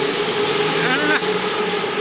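A loud, steady whooshing rumble of an elevated electric train passing nearby, with voices faintly mixed in.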